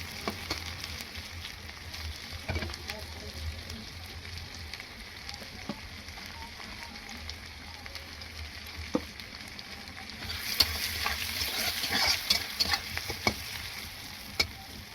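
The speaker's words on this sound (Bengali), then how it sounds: "একদম লাল করে ভেজে নেবো মাছ, পেঁয়াজ আর একসঙ্গে রসুন।" Fish, onion and garlic fry together in a pan until browned, a faint, steady sizzle with occasional stirring scrapes and clicks, growing a little louder and hissier toward the end, with no talking.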